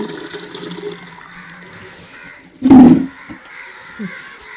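Thick, fresh cow's milk is poured into a container, a short splashing gush midway that stands out over quiet outdoor ambience with faint bird calls.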